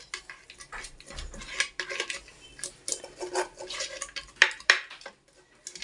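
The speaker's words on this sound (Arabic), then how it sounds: "انا هجلفن البرام بيها كده يا قلبي" Spoon spreading country ghee around the inside of a clay pot, with repeated scraping and rubbing strokes and occasional clinks of metal on pottery, close and irregular, no voices.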